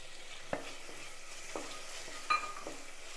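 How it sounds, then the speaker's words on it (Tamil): Onion and tomato softening in a pan for a South Indian dal and curry meal, a faint soft sizzle broken by a few sharp scrapes of a spoon stirring, with no one talking. "வெங்காயம் பாதி அளவு வதங்கியிருக்கு"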